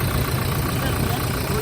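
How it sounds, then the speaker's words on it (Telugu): A Toyota Innova Crysta 2017 2.4 G manual diesel idling, a steady low engine drone with constant mechanical hum and no breaks. "ఒకసారి బండి స్టార్ట్ చేసి చూపిస్తాను మీకు"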